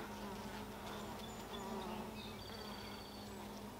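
A dense, continuous drone of many honeybees buzzing close by at a hive, steady and quiet, with no voices.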